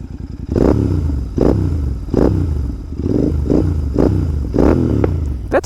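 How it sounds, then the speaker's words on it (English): A Royal Enfield motorcycle engine is ridden and picked up by a GoPro, with loud, close revving that swells and drops in repeated bursts of acceleration and gear changes over a steady rumbling drone. "let's hear the Royal Enfield over the GoPro"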